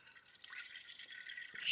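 Water trickles and drips into a pot on a small camping stove at a high camp in the Cairngorms. The brief splashing is soft and close, with one faint knock near the end.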